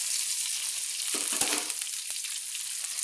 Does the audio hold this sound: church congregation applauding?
no